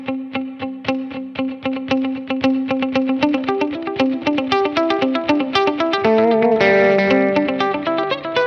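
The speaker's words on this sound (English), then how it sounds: "So here's the dotted eighth delay first." Electric guitar through a Line 6 POD HD500x with a Fender/Vox Blackface-style tone, playing a steady rhythmic pattern with a dotted eighth delay whose repeats weave into a galloping pulse. It is loud and close, with a denser chord section near the end.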